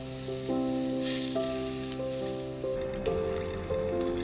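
Oil heated above 200 degrees hisses and sizzles steadily as it hits chili powder in a bowl, close up, with faint tonal music underneath.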